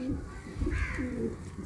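A kalduma pigeon coos softly in a few quick, low throaty phrases, close but quiet.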